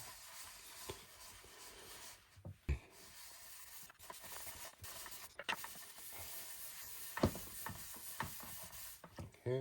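Wax rubbed in circles onto a wooden cutting board with a cloth, a quiet, close, continuous rubbing and brushing with occasional soft taps and bumps, no talking.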